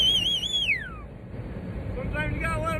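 A loud, piercing human whistle sweeps high then slides downward over about a second, followed by a quieter stretch with fainter warbling tones near the end.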